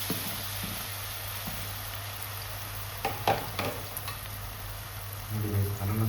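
Banana frying in hot ghee for halwa, a quiet steady sizzle with a few soft stirring clicks and scrapes, close, growing slightly louder near the end.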